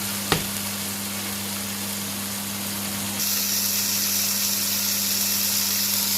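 Chicken tikka pieces cooking in a pan over low heat, a soft steady sizzle with a brief knock near the start and a brighter hiss in the second half, no voices.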